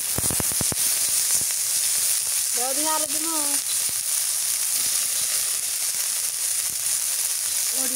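Small river shrimp sizzle in hot oil in a wok, a steady broadband frying hiss running throughout, with a brief spoken voice over it near the middle.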